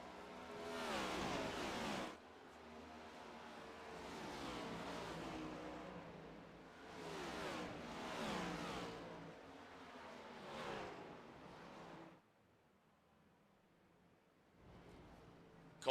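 Race cars accelerating in a pack at Watkins Glen after a green-flag restart, engines roaring loudly in repeated surging waves as cars pass close by, then dropping off toward the end.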